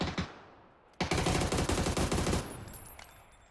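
PUBG gunfire: after a faint decaying tail, a sudden rapid burst of automatic shots hammers out for about a second and a half, then cuts off into quieter game ambience with a faint ring.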